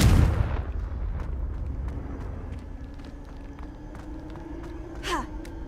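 The Confringo blasting spell in the video game Hogwarts Legacy, one loud burst at the start that fades into a low rumble, followed later by a short whooshing sweep.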